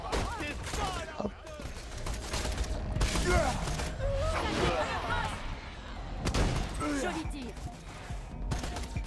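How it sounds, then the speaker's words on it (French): Rapid gunfire from weapons in the video game Borderlands: dense bursts and volleys of shots run almost without a break, mixed with mechanical clanks, and a voice talks over the action. "Joli tir à bout portant en même temps"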